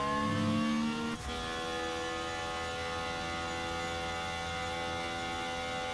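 F1 car on a warm-up lap at Interlagos in F1 Manager 23, a sustained high engine whine holding steady tones after a short burst, loud and continuous with no talk.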